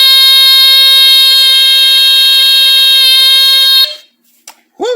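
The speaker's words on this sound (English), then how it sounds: "Woo, that's a loud buzzer." A Smokeguard 805A smoke detector sounds its alarm buzzer, a loud, steady, piercing electronic tone held for about four seconds, then cut off, followed by brief faint noises.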